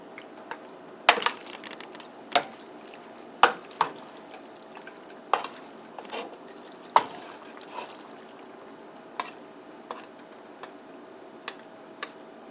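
Spaghetti being mixed in a pot for Honduran spaghetti, heard as sparse, sharp utensil taps and clinks against the pot over a soft, steady background, with no talking.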